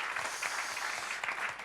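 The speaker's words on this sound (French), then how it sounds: "On peut l'applaudir Pascal, hein" Audience at a hospitality and facility management conference applauding a speaker; soft, steady clapping from a modest crowd, fairly distant and low in level.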